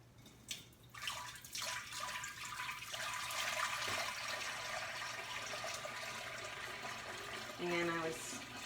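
Warm sugared hibiscus tea pours into a gallon jar with a steady splashing gush lasting several seconds, fairly close and loud, ending with a short gurgle.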